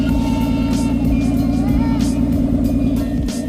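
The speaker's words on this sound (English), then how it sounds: "check out that idle." A lowered Nissan Altima idles close by with a steady, deep, low rumble that holds even for a few seconds, with a faint higher whine above it and no talking.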